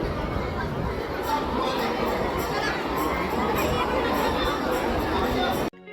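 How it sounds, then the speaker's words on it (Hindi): A dense crowd of pilgrims at a temple in Barsana, a continuous babble of many voices with children's shouts mixed in. It stays steady and close throughout, then cuts off abruptly near the end. "लोग देखिए आप, कितनी सारी भीड़"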